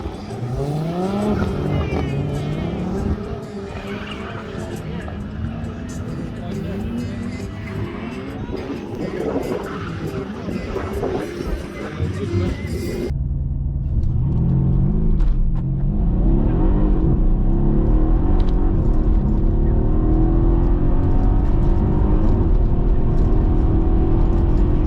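A stock Mercedes CLS 63 AMG pulls hard down a UK quarter-mile drag strip, its loud engine climbing through rising gear sweeps. Near the midpoint it gets heavier and closer as it keeps accelerating.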